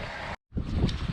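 Wind buffets the microphone beside an eroding creek bank, a loud, rough rumble that drops out briefly and then gusts back in, close and harsh with no voices.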